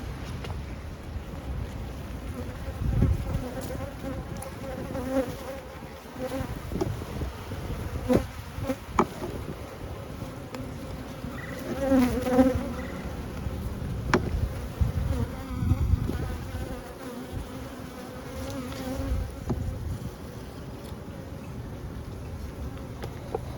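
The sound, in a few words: honeybees buzzing around a hive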